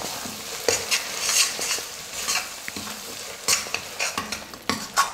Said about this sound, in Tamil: மசாலா ஊற்றுனதுக்கப்புறம் ஒரு 2 நிமிஷம் நல்லா வதக்கிக்கலாம்